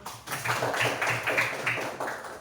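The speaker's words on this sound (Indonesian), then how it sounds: "Oke, tepuk tangan dulu." A classroom of students claps together in a loud, rhythmic pattern of repeated beats over a couple of seconds, with no talking.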